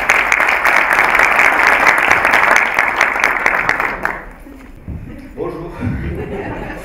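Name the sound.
audience applause welcoming a speaker on stage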